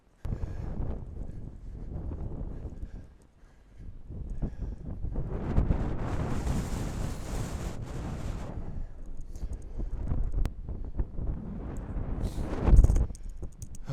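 Gusty wind buffets the microphone on top of a sand dune during a hike, a steady rumbling roar that swells and surges through the middle with no talking.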